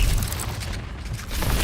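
A fire spell cast in Hogwarts Legacy: a dense, roaring whoosh with low rumbling booms, steady and loud across the short span, with no talk over it.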